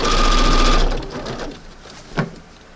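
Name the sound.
sewing machine stitching fabric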